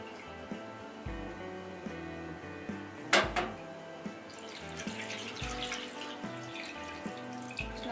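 Kudhiraivali millet washed in water, with faint swishing and splashing, a sudden sharp clatter partway through, and soft handling knocks around it.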